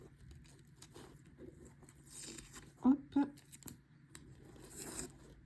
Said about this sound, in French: On va enlever les petits scotch.